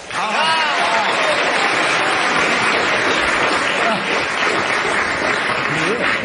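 A studio audience at a comedy panel show gives loud, sustained applause that stays steady for several seconds.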